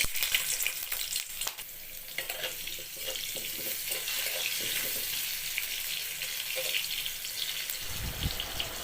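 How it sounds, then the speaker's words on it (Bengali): Cut potatoes sizzle steadily in hot oil for a vegetable curry, a loud, dense frying hiss with occasional scrapes and knocks of a stirring spoon; no one speaks. "আলুগুলো দু মিনিট ভেজে নিয়েছি"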